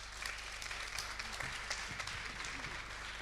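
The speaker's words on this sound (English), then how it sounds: "Please, a round of applause for these amazing speakers" Faint applause from the audience at a venture investment forum after a panel of speakers, a quiet, continuous patter of many hands over a steady low hum.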